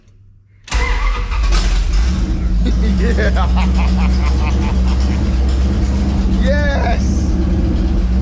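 Dodge D100 pickup truck engine, run without a coolant system, cranks and fires at once, then settles into a loud, steady close-up idle with a deep low rumble, while someone speaks briefly over it.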